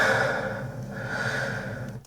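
Breathing captured in raw, unedited production sound, heard alone as a steady, close, audible run of breaths with a slight fade at the very end.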